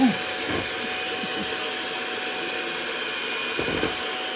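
An electric mixer runs steadily while flour is worked into batter in a home kitchen, a constant whirring drone throughout with a few faint knocks and bumps.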